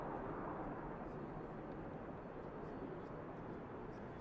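A Jet2 jet rolls down the runway for takeoff at Manchester Airport, a steady, distant broadband engine roar that holds evenly throughout with no clear peaks.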